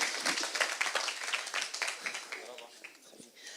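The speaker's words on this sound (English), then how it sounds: "Round of applause for Ahmed." Audience at a startup pitch event applauding a presenter named Ahmed, a dense wash of clapping hands that thins out toward the end, with speech mixed in.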